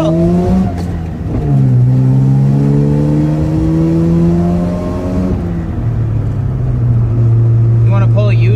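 A Mazda RX7 drives and turns on a country road, its engine loud and close with a steady drone that rises and falls in pitch through the turn; a voice talks briefly near the end.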